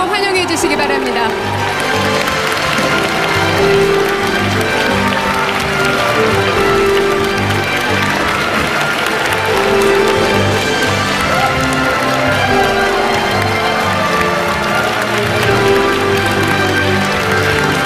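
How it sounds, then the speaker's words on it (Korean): A large crowd applauds to welcome South Korean President Moon Jae-in at a public event, a continuous hiss of clapping blended with loud music and an announcer's voice over it for the whole stretch. "더욱 뜨거운 박수로 환영해 주시기 바랍니다"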